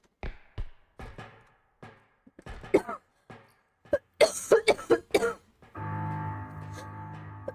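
A series of harsh, close coughs, some single and some in rapid bursts, followed by a steady droning noise at the end.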